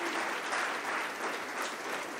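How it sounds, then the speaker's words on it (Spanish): Congregation at a men's church rally breaks into a strong round of applause, an even wash of many clapping hands with no talking. "Vamos a darle un fuerte aplauso a Cristo Jesús"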